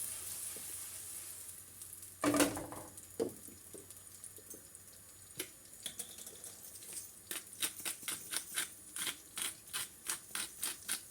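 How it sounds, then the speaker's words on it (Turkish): Chopped onion sizzles and fries in a pan with a soft, steady crackle, broken by sharp clatters and a run of rhythmic stirring or scraping taps toward the end. "öncelikle bir soğanımızı kavuracağız"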